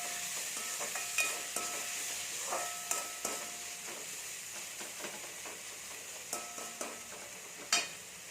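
Tomato and onion sautéing with rock salt in a pan for an ivy gourd stir-fry, a continuous close sizzle broken by repeated spatula scrapes and clinks at irregular intervals.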